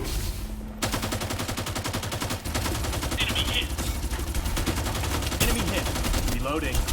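Shotgun blasts in a video game firefight: rapid repeated loud gunshots, dense and close, continuing across the whole stretch with a short pause near the start.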